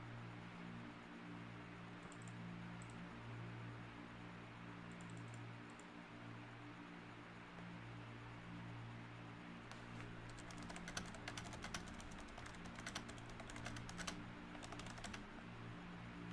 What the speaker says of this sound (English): I'm typing, but nothing is showing up.